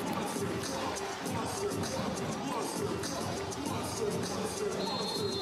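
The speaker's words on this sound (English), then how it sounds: "the crowd with their clappers and the smiles show you what that point means" A crowd at an Italian league volleyball match cheers loudly after a point, with dense rattling clappers and voices merging into a steady roar that holds throughout.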